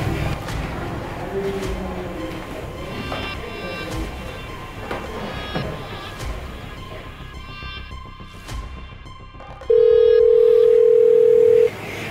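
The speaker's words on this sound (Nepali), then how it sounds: "फोन गर्नु पर्यो" A telephone dial tone sounds while a call is being made, a steady held tone that comes in loud near the end after quieter background room noise and keypress-like clicks.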